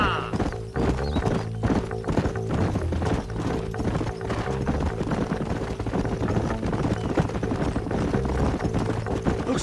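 Horses gallop in Red Dead Redemption, with a rapid, continuous clip-clop of hooves over a steady low rumble and a neigh near the start, loud and close throughout.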